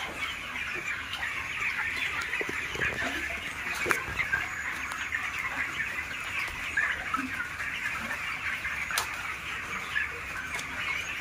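A crowded poultry farm of about 4,000 young chickens, housed above a large pond, fills the air with dense, continuous clucking and peeping, steady and close throughout with no talk.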